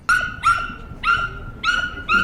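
A small dog barks in four or five sharp, high yips spaced about half a second apart, close and loud, with no talking.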